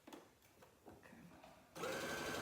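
A sewing machine stitching quilt strips starts after a few soft handling sounds and runs in a steady close whir for the final moments.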